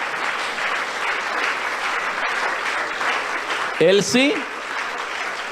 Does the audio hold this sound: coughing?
no